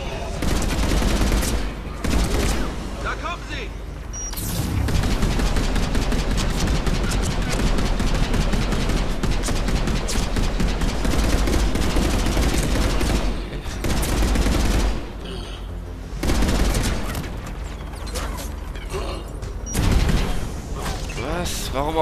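Continuous bursts of gunfire and explosions from the video game Mass Effect 3, dense and loud throughout with brief lulls, with voices talking over the shooting.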